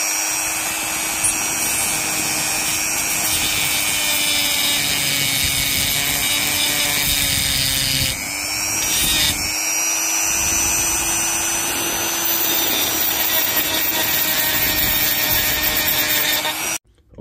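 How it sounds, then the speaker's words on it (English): A Dremel rotary tool grinds leftover nickel strip off the ends of Milwaukee battery cells. A loud, close, steady high whine with a rubbing grind runs for about sixteen seconds, with a brief dip partway through, then cuts off. "So we're going to use a Dremel to clean up the ends here."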